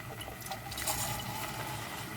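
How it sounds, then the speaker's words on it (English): Water squirts from a squeezy bottle into a pan of tomato sauce, a soft, faint liquid hiss and trickle lasting a couple of seconds with no talking. "I'm going to put some water from my squeezy bottle"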